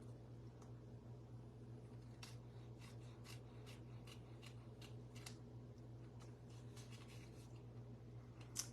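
Quiet, repeated crisp snips of scissors cutting paper, irregularly spaced over a steady low hum.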